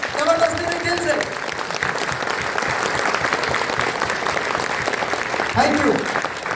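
An indoor audience claps loudly and steadily at a ceremony honouring a mentor, with dense applause running throughout and a few voices rising briefly near the start and end.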